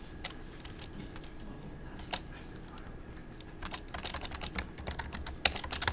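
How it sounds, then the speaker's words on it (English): Computer keyboard typing while entering Visual Basic code, a steady run of close, crisp key clicks with a few louder taps, quickening toward the end, no talking. "Finally, I'm going to start typing in some code."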